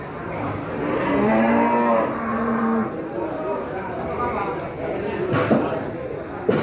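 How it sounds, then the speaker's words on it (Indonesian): Cattle at a busy Indonesian livestock market low with long drawn-out moos, several calls overlapping against a steady background of crowd chatter and people talking nearby. "ini deretan sapi-sapi yang sudah laku"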